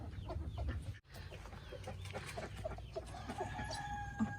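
Chickens cluck and a rooster crows in a backyard coop, several birds calling in steady, overlapping bursts from close range over a continuous farmyard din.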